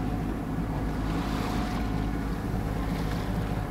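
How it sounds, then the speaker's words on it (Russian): A sailboat motors at sea under engine power, a constant low chugging drone mixed with wind noise and rushing water, steady throughout. "мы идем тут своим двигателем, тарахтим"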